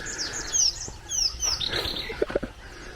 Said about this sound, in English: Can you hear the sounds of those birds?